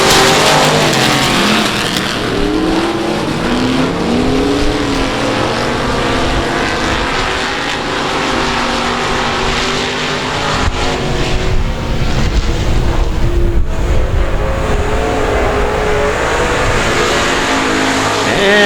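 Race cars roar around the oval at South Texas Speedway, a dense, loud engine drone with passing cars swelling and fading continuously, no pause through the whole stretch.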